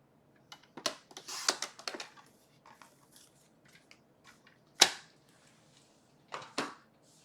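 Scissors snip through a strip of cardstock for a handmade card in a few short, crisp cuts, close and quiet, with scattered paper rustles between them.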